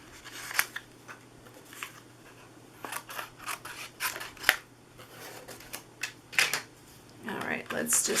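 Scissors cutting down a paper Halloween treat holder, a run of crisp snips and crunchy paper rustles repeating irregularly up close, ending in a denser flurry of cuts.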